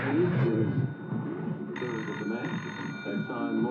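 A telephone rings in a steady electronic pattern, fairly loud and continuous behind a busy background of voices in a room.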